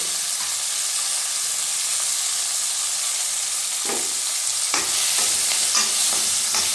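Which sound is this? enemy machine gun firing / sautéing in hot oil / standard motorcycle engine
sautéing in hot oil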